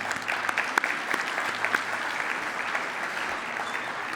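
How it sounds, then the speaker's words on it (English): Audience applause at a national gathering on unmarked burials in Gatineau, Quebec: steady, dense clapping from a roomful of people, moderately loud and sustained throughout with no talk over it. "everybody give Kirsten an applause."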